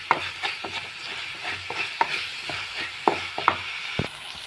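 Onion and tomato sautéing in a pan, with a steady frying crackle broken by repeated sharp clicks and scrapes of stirring, close and moderately loud, no voices.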